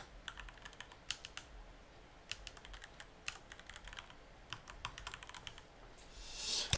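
Quiet, close typing on a computer keyboard while entering a name, irregular clusters of light key clicks across several seconds with a brief rustle at the end, no talk.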